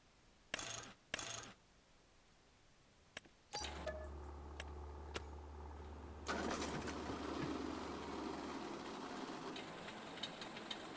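Ford 8N tractor engine idling outdoors, surprisingly quiet, as a steady low drone that starts after a few sharp clanks and runs on under rising mechanical rattle and clatter.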